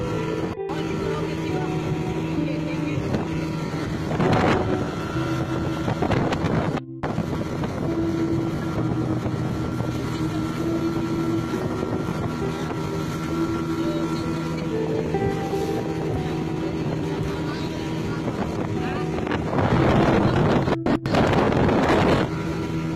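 Boat approaching on the water near a burning tanker ship off Balikpapan, a steady motor drone mixed with wind buffeting and wave wash, with several louder gusts and people talking now and then.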